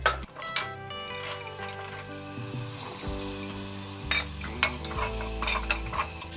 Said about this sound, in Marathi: हे छान मटर आणि कॉर्न फ्राय झालेले आहेत